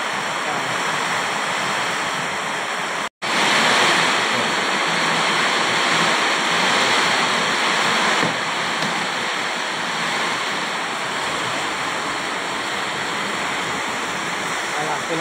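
Heavy rain pours steadily near the sea, a dense continuous hiss that stays loud throughout apart from one brief cut.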